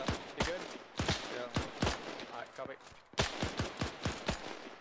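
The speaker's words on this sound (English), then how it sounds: "I'm sure you've been made aware of the enemy's machine gun" Enemy machine gun in a World War II military video game, likely a Bren, rattling off repeated bursts of sharp gunshots in a loose rhythm, with a voice talking over the firing.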